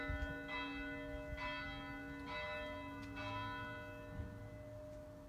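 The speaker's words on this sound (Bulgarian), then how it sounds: "Много съм щастлива, че чу тази камбана" A church bell in Plovdiv, Bulgaria, rings with several clear, resonant strikes, their long tones overlapping and lingering, heard at a moderate distance without speech.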